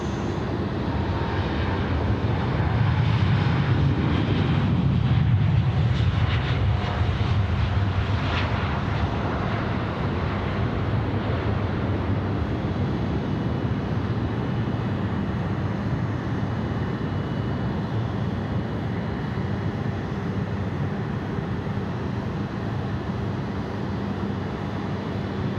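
An airliner roars past at Sydney Airport, its broad engine rumble swelling loud and close in the first seconds, then settling into a steady, sustained drone that fills the rest of the stretch with no voices.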